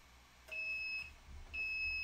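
A heat press timer finishes its 15-second countdown with two short, high electronic beeps, clear and alone over a faint background hum.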